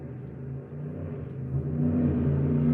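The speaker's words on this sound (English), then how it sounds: "Sound like some good engine work there." A car engine revs steadily, its low droning hum rising slightly in pitch and getting louder toward the end, heard alone without voices.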